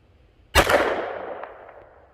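Single sharp .40 caliber pistol shot from a Smith & Wesson M&P fired over a chronograph outdoors, a loud crack with a long decaying echo trailing off afterward.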